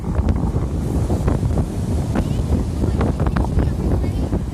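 Powerful wind on a seashore with strong waves blasts the microphone, producing a loud, steady rumbling roar with fluctuating gusts throughout.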